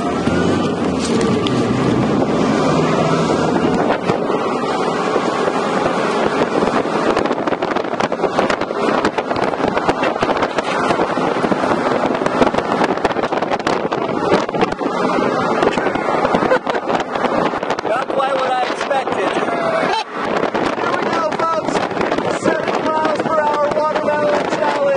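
Vehicle speeding at 70 miles an hour, heard as constant loud wind buffeting and road rush over the microphone for the whole stretch, with a brief dip near the end.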